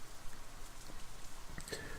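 Steady patter of rain from the visual novel Katawa Shoujo, a dense even hiss of drops on a surface, with a few faint brighter tones near the end and no voices.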